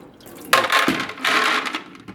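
Water splashes and runs from a rinsed pond canister filter in two short gushing bursts, with a light knock between them, close and fairly loud.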